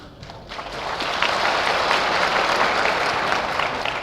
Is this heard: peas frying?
no